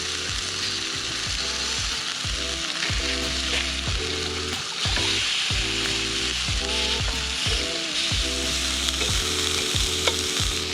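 A salmon fillet sears and gets flipped in a pan at a riverside truck camp, giving a continuous sizzle beneath a loud, rhythmic mechanical ratcheting that repeats throughout, with no voices.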